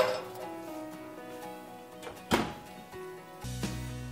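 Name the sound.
prime rib roasting pan being put into oven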